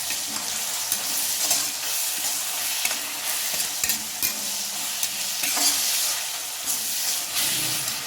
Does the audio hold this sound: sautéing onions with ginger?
yes